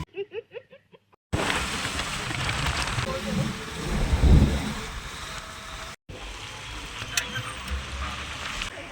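Steady heavy rain hisses loudly for several seconds after a short burst of speech, with a low rumble swelling midway and a brief break.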